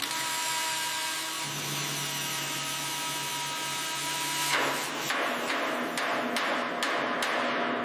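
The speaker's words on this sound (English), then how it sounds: "Large rotary wire brushes strip away decades." Large rotary wire brushes stripping decades of rust from a heavy monster truck during restoration: a continuous loud, harsh whirring grind, then a series of sharp scraping bursts as the brush bites, close up with no speech.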